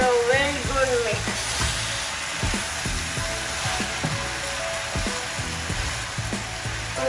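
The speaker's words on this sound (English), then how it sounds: "now just give it a good mix for a minute. Now give it a very good mix." Paneer Maggi noodles sizzle and fry steadily in a pan while being stirred, with repeated scraping and clattering strokes throughout and no talk.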